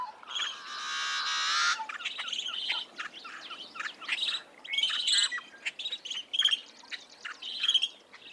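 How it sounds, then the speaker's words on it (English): Yellow-headed blackbird song in a marsh: a harsh buzzing rasp followed by a series of squeaky, scratchy chirps and clicks, clear and fairly close. "a yellow-headed blackbird song"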